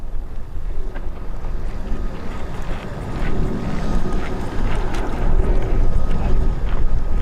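Steady wind buffets the microphone with a continuous low rumble and rushing noise at a radio-controlled sailboat race, growing slightly stronger toward the end.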